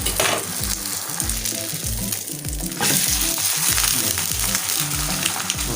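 Egg paratha sizzling steadily in hot oil in a pan just after being flipped, a dense crackling fry with faint rhythmic stirring or pressing beneath, close and continuous without talk.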